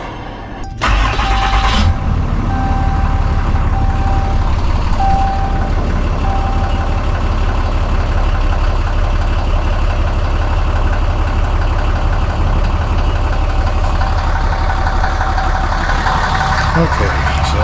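A tuned Ram 2500 diesel pickup on its stock exhaust starts up with a sharp burst, then settles into a steady, fairly quiet low idle that holds close and even throughout.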